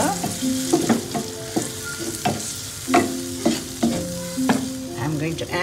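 Curry paste sizzles and fries in a pan for an egg curry with potato and green peas, while a utensil stirs it in repeated scraping strokes. The sound is close, rhythmic and steady, with no voices.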